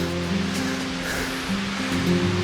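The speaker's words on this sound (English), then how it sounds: "You hear the creek running." Steady broadband rush of a creek running beside a snowy hiking trail, continuous and fairly close, with no voices and a low rumble underneath throughout.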